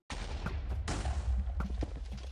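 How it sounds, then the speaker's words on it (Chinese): Minecraft battle explosions, a dense burst of loud blasts and crackling booms with a strong second hit near the middle, continuing as rumbling rapid bangs. "爆炸爆炸"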